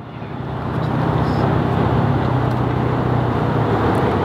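Ferrari supercars, including a black F12, arrive at an exclusive Ferrari hypercar gathering, their engines producing a steady, loud low rumble that swells over the first second and then holds, blended with broad roadway noise.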